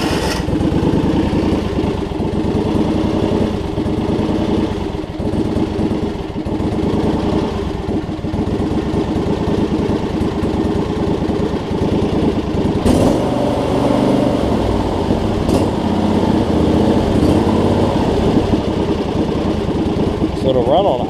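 A John Deere LX279 lawn tractor engine idles steadily and fairly loud, a continuous droning rumble throughout with a brief change partway through, while someone talks over it.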